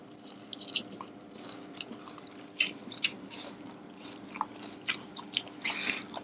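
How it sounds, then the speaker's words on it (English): Crunchy fried tempura takeaway food from a seafood restaurant is chewed close up, with irregular crisp bites and crackles repeating over several seconds, loud and distinct against a quiet background. "I think they can hear you chew."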